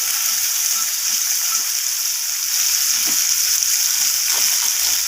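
Potato and pumpkin pieces fry in a pan while being stirred, producing a steady close sizzle with faint scraping and stirring knocks.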